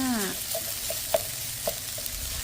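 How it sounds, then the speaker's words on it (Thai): Tuna fried rice stir-fries in a pan with a steady close sizzle, punctuated by a few distinct clacks of a spatula striking the pan and a brief voice at the start. "วันนี้เราผัดข้าวผัดทูน่าจ้า ข้าวผัดทูน่า"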